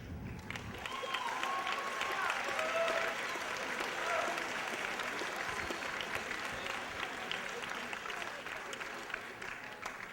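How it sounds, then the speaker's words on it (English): A school fine arts assembly audience applauds, a broad, sustained wash of clapping from a large crowd that swells quickly and carries on evenly for several seconds, with faint voices mixed in. "Another round of applause."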